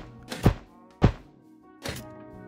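Three short thunking launches from a gear launcher in Minecraft, firing snowballs retextured as little gears, spaced unevenly and fairly close, with no talk.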